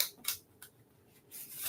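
A deck of playing cards is shuffled nearby, with quiet, brief riffling bursts separated by short pauses.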